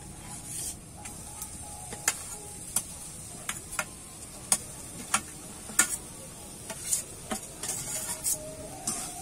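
Raw jackfruit and potato frying in a pan, a soft background sizzle punctuated by frequent sharp clicks and scrapes of a spatula stirring against the pan, close and irregular.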